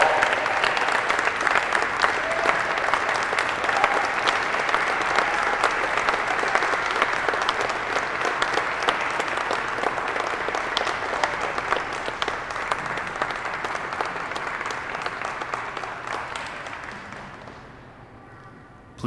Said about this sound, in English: Please join me in a round of applause for the Aviation Captain's Career Course graduates